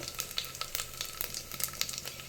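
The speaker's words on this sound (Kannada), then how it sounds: "ಒಂದು ಸ್ಪೂನು ಜೀರಿಗೆ ಅದು ಚೆನ್ನಾಗಿ ಫ್ರೈ ಆಗಿದೆ" A spoonful of cumin seeds frying for ghee rice gives a soft, steady crackle with quick, scattered pops, heard close up and fairly faint.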